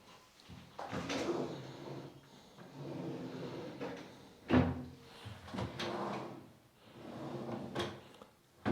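Several wooden drawers in a newly renovated apartment slide open and shut in a quiet room, each movement ending in a soft knock, with one sharper thump partway through.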